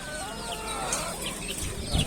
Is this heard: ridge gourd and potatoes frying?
no